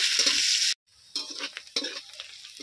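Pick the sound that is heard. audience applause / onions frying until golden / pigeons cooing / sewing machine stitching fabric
onions frying until golden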